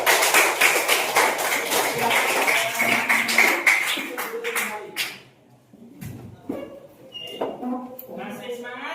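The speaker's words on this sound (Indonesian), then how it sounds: "Tepuk tangan." Students in a classroom clap their hands together in a quick burst of sharp, fairly loud claps for several seconds, then a pause followed by scattered shuffling and lighter taps.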